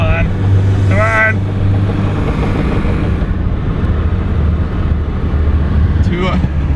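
A car at full throttle while touge drifting on a mountain road in Poland: a loud, continuous engine roar fills the whole stretch, with brief rising whines near the start and the end.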